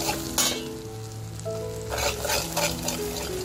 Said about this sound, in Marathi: आपला शलाका ऑल इन वन हा घरगुती मसाला आहे तो छान परतवून घेते